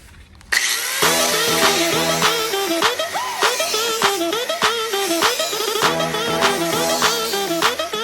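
An angle grinder cuts sheet metal for a metal rose, bursting in after half a second into a loud, continuous high whine whose pitch repeatedly dips and recovers as the disc bites.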